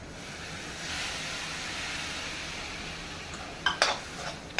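Milk being stirred into roasted semolina and grated coconut in a pan, a soft continuous swishing and sloshing with a few sharper spoon scrapes near the end, close by with no talking.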